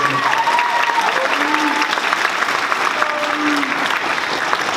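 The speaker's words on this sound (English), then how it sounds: "You can clap for that." A school spring concert audience applauds in a loud, continuous, even roar of clapping that holds steady throughout, with faint voices and a few whoops mixed in.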